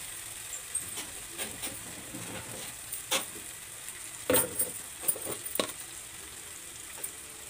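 Fish masala fries in a pan over low heat, giving a soft continuous sizzle. Several short scraping stir sounds break through it, and the whole scene sounds close and moderate in volume.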